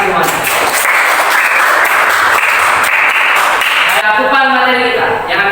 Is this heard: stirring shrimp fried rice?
no